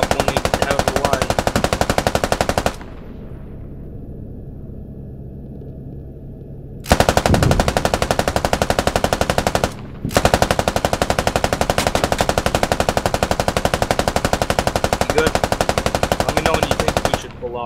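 Helicopter door gunner's machine gun in the game Squad, firing long sustained bursts of rapid loud shots, cut by a few-second pause and a brief gap, then resuming hard, with a voice faintly underneath.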